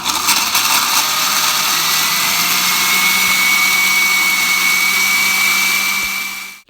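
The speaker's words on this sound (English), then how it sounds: "I've got our greens in the blender along with the garlic." A blender runs steadily and loudly, whirring through hedge mustard greens and garlic with a constant motor drone and a rising whine before it cuts off at the end.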